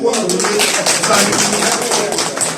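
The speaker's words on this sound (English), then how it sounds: "Please give me a round of applause." Audience at an honors ceremony clapping, a dense burst of applause filling the room, with speech mixed in.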